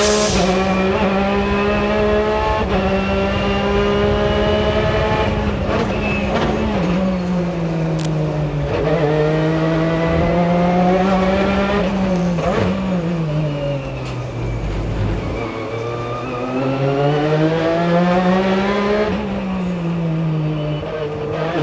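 American Le Mans Series sports cars racing at Trois-Rivières, engines roaring loud and continuous with rising and falling pitch as cars shift gears and pass, several machines overlapping through the whole stretch.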